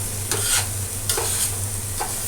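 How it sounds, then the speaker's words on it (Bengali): Rice and lentils fry in a pan for khichuri, a soft steady sizzle broken by three rhythmic scraping strokes of a spatula. "চাল ডাল দিয়ে 10 মিনিট ভেজে নেব।"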